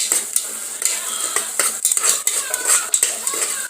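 Onions sautéing in oil with fennel seeds in a pan while preparing a chicken, potato and drumstick salna, with repeated scraping and clinking of a spoon against the pan over a steady close sizzle, no voices.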